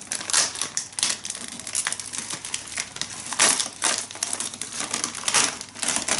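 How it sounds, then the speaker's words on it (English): Plastic wrapping is ripped and crinkled off a potted African violet, giving close, loud crackling and tearing bursts in quick irregular succession for several seconds. "let me see if I can just maybe rip this plastic off just to give you a better idea"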